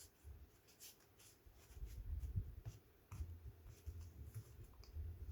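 Traditional playing cards riffled in a table shuffle, giving soft repeated fluttering bursts of card clicks close by on a tabletop, quiet and with no voices.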